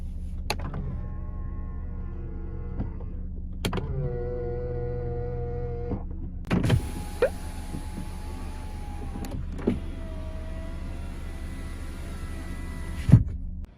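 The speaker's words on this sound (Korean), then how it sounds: "접이식 사이드 미러" Electric motors of a used car's power-folding side mirrors whir in several separate runs of a few seconds each, with faint clicks and thumps between them, fairly quiet and close.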